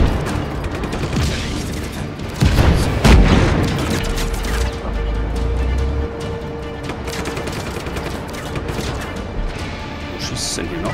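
Heavy gunfire and booming explosions in Just Cause 3, with dense rattling shots and deep rumbles that swell early on, loud and continuous, while a player talks over the action.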